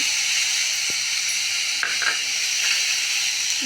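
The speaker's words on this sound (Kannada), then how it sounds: "ಇವಾಗ ಇದಕ್ಕೆ ಕರಿಬೇವು ಹಾಕೋಣ" Curry leaves dropped into green tomato chutney in a hot pan give a steady, close sizzle with a brief crackle and a faint stir partway through, no voices.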